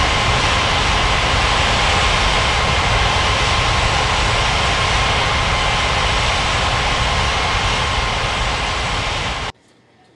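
A jet airliner takes off in the Unmatched Air Traffic Control game, a loud sustained roaring rush of engine noise holding steady for about nine seconds before cutting off abruptly.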